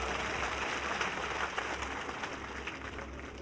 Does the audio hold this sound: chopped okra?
no